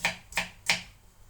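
Knife chopping apples on a cutting board for applesauce: three quick, crisp chops about a third of a second apart, quiet and close, with nothing else around them.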